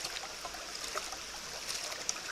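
Water swirled through sediment in a gold pan during a wash, a soft continuous trickling and sloshing, close and fairly quiet, with no voices.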